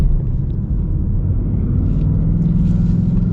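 A 2021 Ford Mustang Mach 1 in track mode rumbles at partial throttle through a turn, a loud, steady low engine drone heard from inside the cabin.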